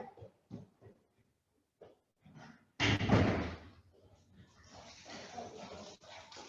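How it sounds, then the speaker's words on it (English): A pet dog scratches at a door, making a loud, rough burst of scraping and bumping partway through that trails off into softer rustling, with brief faint sounds before it. "I have a furry friend visitor who's scratching at the door and was about to bark"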